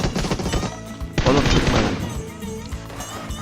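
PUBG Mobile gunfire cracks out in loud bursts, first a rapid string of shots and then a heavier, sustained volley with echoing impacts, close and dominant in the mix.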